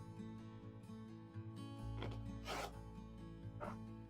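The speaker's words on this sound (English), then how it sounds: "We're going to cut off the selvage." Rotary cutter or blade drawn along a ruler to trim the selvage off quilting fabric, a soft scraping swish or two over a steady low hum, close and quiet with no talking.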